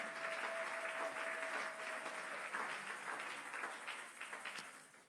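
Congregation applauding during a Sunday church service, a steady wash of many hands clapping at moderate distance, thinning slightly toward the end.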